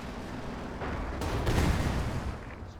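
A 105 mm artillery barrage rumbles in Company of Heroes 2, a rolling roar of blasts that swells to a peak midway and then tapers off, loud and without voices.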